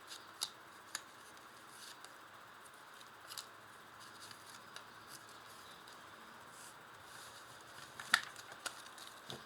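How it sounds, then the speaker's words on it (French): Lenormand cards drawn one by one from a deck, soft papery flicks and slides with a few sharper snaps, quiet and close with no talking. "ce que je vais faire, c'est que je vais tirer 5 cartes."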